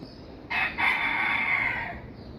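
Domestic roosters crowing in the morning: one loud, close crow rising in two bursts and holding a long drawn-out note before fading, with no other sounds around it.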